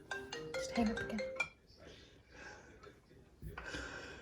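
A phone ringtone sounds again in a kitchen, a short burst of melodic chiming notes in the first second and a half. Breathy handling noise and rustles follow.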